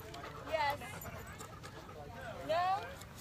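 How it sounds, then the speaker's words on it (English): Puppies at play give short high whimpers and yips, two brief bursts close to the microphone over a quiet background. "puppy play. Puppy play."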